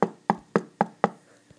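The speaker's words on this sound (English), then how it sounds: "I'll knock on the door." Knocking on a door, five sharp evenly spaced raps close up followed by a faint sixth tap, with no one speaking.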